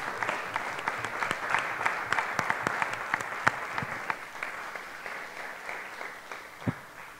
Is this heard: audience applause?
yes